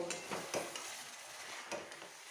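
Chicken curry with potatoes is stir-fried in a pan with garam masala powder, giving a quiet sizzle broken by a few soft scraping strokes of a spatula.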